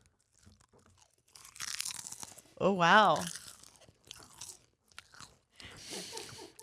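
Popcorn being crunched and chewed close to a podcast microphone, bursts of crisp crunching between people talking and exclaiming.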